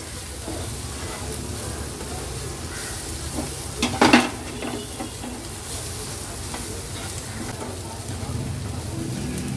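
Crispy fried corn tossed with salt and coriander over a high flame, giving a steady close sizzle and frying hiss with stirring scrapes and a brief louder clatter of the spoon against the pan midway.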